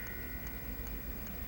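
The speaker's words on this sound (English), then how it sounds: "Can you hear that real subtle ticking" A CRT monitor's power supply, caught in overcurrent protection, gives a faint, steady ticking about every 0.4 seconds over a constant low hum, with no talking.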